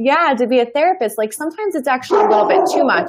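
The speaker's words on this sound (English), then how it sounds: "there goes Turbo. That's my dog." A pet dog named Turbo barks repeatedly in short, loud yips and whines close by, overlapping a woman's ongoing speech, with the barking growing denser toward the end.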